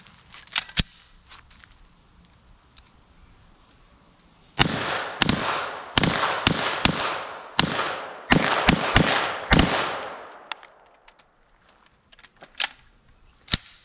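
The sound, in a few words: MPA Defender Mac 11 gunfire, 115 grain full metal jacket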